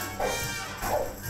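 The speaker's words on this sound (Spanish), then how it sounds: "estaban ladrando perros como si fueran perritos" Dogs bark in Dragon Quest XI S: two short, yappy bursts about half a second apart, set over a steady backdrop of game music and ambience.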